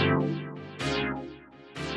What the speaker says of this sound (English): so that provides a rhythmic kind of pulse with the filter.